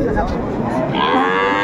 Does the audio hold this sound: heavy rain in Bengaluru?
no